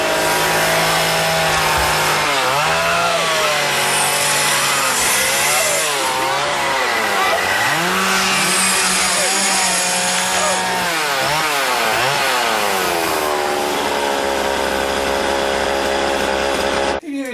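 A chainsaw roars loudly in a movie scene, its engine pitch rising and falling as it revs and bites, running continuously for many seconds.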